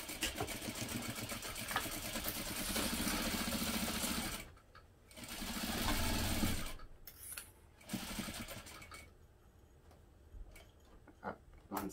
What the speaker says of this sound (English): now I'm going to sew the pocket panels together using a 1/2 inch seam allowance